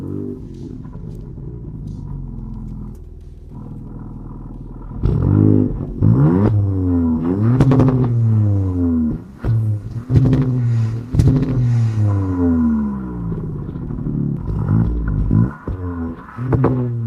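A 2026 Dodge Charger in sports mode starts up, idles with a low rumble, then is revved repeatedly in strong rising and falling sweeps, loud and close, with no talk over it.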